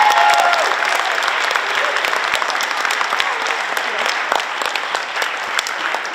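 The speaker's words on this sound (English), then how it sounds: "One more round of applause for all of our courageous and talented speakers." A school speaking and film contest audience gives a round of applause for its student speakers, steady mid-level clapping filling the room and gradually easing off.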